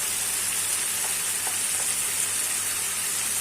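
Pangas fish with spices sautés in a hot pan, a steady, close sizzle of frying with faint stirring clicks, alone and without talk.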